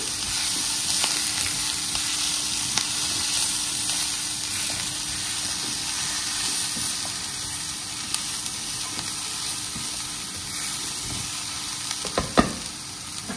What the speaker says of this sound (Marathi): मशरूम ऍड केल्यावर पुन्हा मी परतवून घेईन।